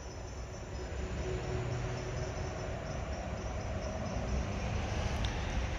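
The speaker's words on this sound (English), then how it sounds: "You can hear the train in the background." A low, steady rumble of a train rolling along in the background, constant and fairly quiet throughout with no voices.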